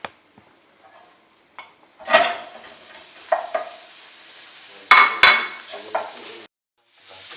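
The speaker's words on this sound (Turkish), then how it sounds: "Now I'm frying the minced meat." Minced meat frying in a pan, stirred with a utensil so that sizzling bursts rise and fall, with occasional clinks against the pan, then a sudden stop near the end.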